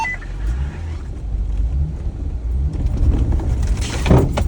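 An off-road vehicle lurches through a deep rut on a trail in the JW Corbet Wildlife Management Area, a close, heavy rumble of suspension building to a dull clunk and rattle near the end.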